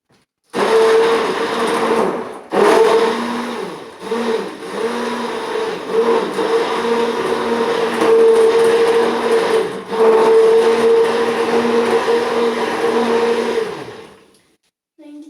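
A blender whirs through a homemade strawberry-lavender fruit drink, starting with short pulses and then running as a loud, steady motor drone that stops abruptly near the end.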